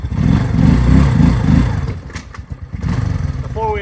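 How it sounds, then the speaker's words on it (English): A four-wheeler ATV engine revs hard and close, with rough, uneven bursts that rise and fall before dropping back to a choppy idle, while people talk over it in a snowy outdoor setting. "The four-wheeler's not happy."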